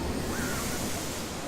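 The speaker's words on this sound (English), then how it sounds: "there's literally just a wall of water right here that smacks you in the face" Water from the Ripsaw Falls log flume ride at Universal crashes down as a boat descends, a steady, loud broadband roar of splashing and spray filling the whole moment without pause.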